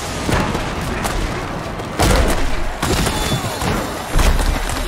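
A hard tackle in a Mutant Football League video game match lands as a series of heavy, booming thuds, loud and close, with impacts around two and four seconds over steady arena crowd noise.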